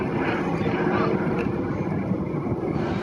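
An Avro Lancaster bomber flying past at the Blackpool Airshow, heard as a steady, broad propeller-engine drone with low rumble and wind noise throughout, fairly loud and continuous.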